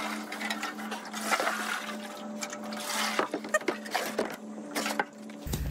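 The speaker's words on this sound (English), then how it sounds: "it's leaking from somewhere, it's leaking from here" Liquid trickles and splashes from a rusty gas tank on a 1970 Triumph Spitfire MK3, an uneven patter with a faint steady hum beneath, quiet and close, ending in a thump.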